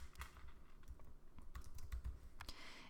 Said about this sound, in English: you'll type your text here